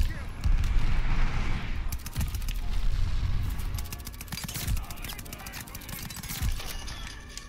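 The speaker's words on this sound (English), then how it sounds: "If y'all ever see me just like shooting at random objects or at random hills" Gunfire in Call of Duty: Vanguard Arms Race multiplayer, rapid shots and bursts firing repeatedly at close range amid other game effects.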